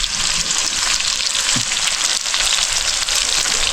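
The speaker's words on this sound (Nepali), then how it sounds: "अब मासु चराको मासु भुटाइहुँदैछ" Bird meat, from an eagle or other bird shot with a slingshot, frying in a pan over a campfire-style cook, giving a loud, steady, close sizzle with no talk.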